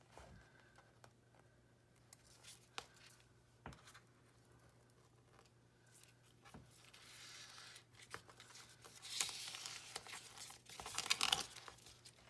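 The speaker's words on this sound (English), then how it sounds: "You just want to take off the top side, not the bottom plastic sheet. So I'm just peeling that off," The top sheet of heat transfer vinyl is peeled away in a close, faint crinkling and tearing rustle, with scattered small taps early on and a louder ripping stretch near the end.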